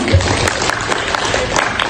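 Audience applause at a student Malay-language presentation showcase on language politeness, a steady dense patter of clapping lasting about two seconds with no break.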